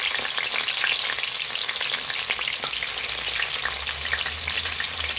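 Chopped green chillies and ginger fry in hot oil for a masala dosa filling, giving a steady, dense sizzle throughout with faint stirring crackles and no voices.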